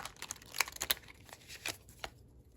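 Tarot cards being shuffled close by, with a few quick soft riffling bursts and light papery snaps spaced irregularly, faint and with no talk.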